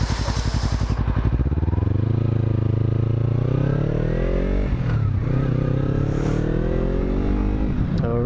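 A motorcycle riding on a damp road as its engine revs up through the gears, loud and close with a steady rising drone, the throttle easing briefly before building again under heavy wind.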